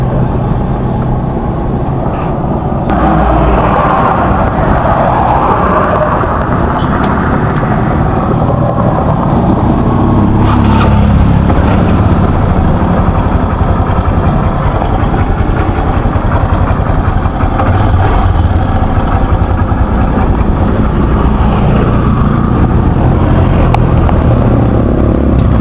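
A tricycle's engine idles steadily in Gumaca, Quezon, a continuous low rumble that stays close and even for the whole stretch, with faint background activity and no clear talk.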